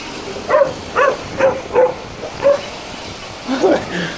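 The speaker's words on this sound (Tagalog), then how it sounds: "May nangahabol aso." A dog chasing a motorcycle barks repeatedly in short, sharp yips at irregular intervals, fairly close, with some background noise around it.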